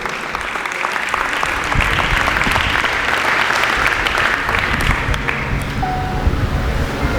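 Loud applause from a church congregation during a sermon, a dense, sustained roar of clapping with some crowd noise underneath.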